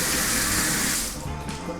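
Cold water pours strongly from a bathtub tap in a hotel suite bathroom, a loud continuous rushing splash that stays close and steady throughout, with no talk.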